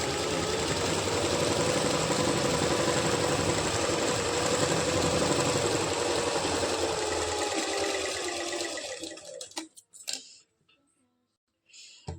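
A sewing machine runs steadily stitching a palazzo pant panel, a continuous close mechanical whir that stops near the end, followed by a few faint handling clicks.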